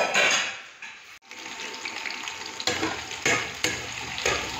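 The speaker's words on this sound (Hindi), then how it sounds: "वहाँ पे गोभी और आलू फ्राई हो रहे हैं" Cauliflower and potatoes fry in a pan with a steady, fairly loud sizzle, broken by a brief gap and then clattering stirs and splashes of tap water as dishes are put away nearby.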